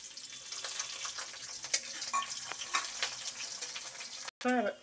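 Onions frying in a pan of oil for a vegetable curry sizzle steadily and closely, with scattered stirring clicks and scrapes, then a brief gap and a short burst of voice at the end.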